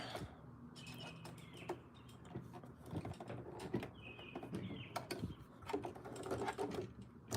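A sewing machine stitching the hem of thick jeans, its needle running in quick rhythmic bursts with pauses as the fabric is eased through, and birds chirping faintly in the background.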